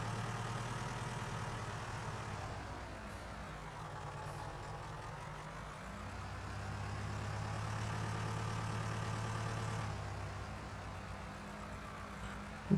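A tractor engine in the farming game Farming Simulator 19 runs as a steady low drone with a slight swell in revving partway through, with no talk over it.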